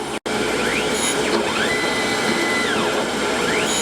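A surface grinder works a steel gage block, a loud continuous abrasive whine with rhythmic sweeping tones as the table passes back and forth, steady throughout with no talk.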